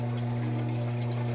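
Steady rushing water with a low mechanical hum as an automatic washing machine fills continuously with water, close and even.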